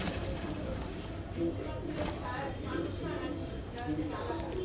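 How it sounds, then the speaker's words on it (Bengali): Madras and Giribaj pigeons coo softly in a loft, low murmuring calls repeating under steady background noise and nearby voices. "এটা একটা সিঙ্গেল সবুজ পায়রা"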